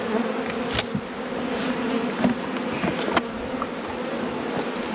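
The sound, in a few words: honey bees buzzing at Langstroth nuc hive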